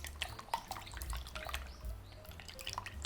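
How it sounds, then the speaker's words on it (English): Eggs being beaten with chopsticks in a container for Japanese rolled omelette, with rapid, light clicking taps and wet splashy strokes in a quick, irregular rhythm, close and fairly quiet. "beat the eggs so that the egg whites and yolks are mixed"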